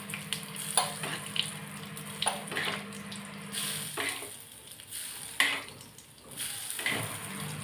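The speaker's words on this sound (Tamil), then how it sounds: "கொஞ்சமாக ஊற்றிப்போம் எண்ணெயோட" Hot oil tempered with mustard seeds, red chillies and curry leaves poured onto a spicy peanut and coconut chutney, giving quiet bursts of sizzling and crackling that rise and fade in short waves, with no talking.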